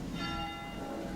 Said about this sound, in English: I'm lucky enough to ring the bell here. It's 12 o'clock, that means it gets 12 rings.